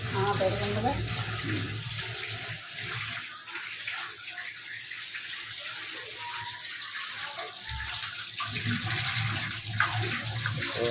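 A kitchen tap runs in a steady gushing stream while chicken is washed under it, with a person talking over the flowing water.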